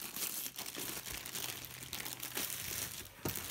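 A plastic bag crinkles and crunches up close while a DAC is unpacked, with irregular soft rustles and a few sharper crackles, fairly quiet and with no talking.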